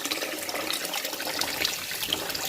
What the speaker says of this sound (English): Add the rice to hot water.